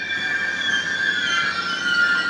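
Caltrain train passing Burlingame station with a sustained high metallic wheel squeal over a steady rolling rumble, loud and close throughout, no voices.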